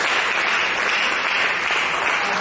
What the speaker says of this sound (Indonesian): Mari kita berikan tepuk tangan bagi Tuhan Yesus.